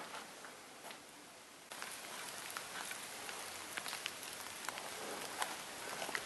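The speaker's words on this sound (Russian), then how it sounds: "На улице начался дождь" Steady rain patters and drips outside and through the nearly roofless interior of an abandoned church, a dense even hiss with scattered close drops, swelling louder partway through.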